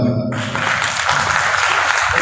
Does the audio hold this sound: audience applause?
yes